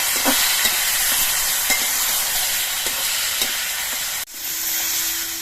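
Spices cooking down in a pan with a splash of water added for a fish curry with vegetables, giving a steady, loud broadband sizzle and hiss with faint stirring scrapes, briefly cut off near the end before resuming.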